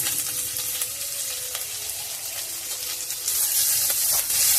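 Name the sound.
chopped ginger frying in cardamom and clove tempering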